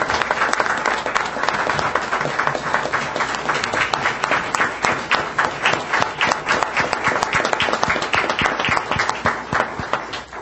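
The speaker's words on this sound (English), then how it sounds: "I would also like to ask everyone to join me in applauding our school board for their outstanding efforts" A roomful of people applauds a school board at a district board meeting, sustained and fairly loud clapping that holds steady the whole time, with no talking over it.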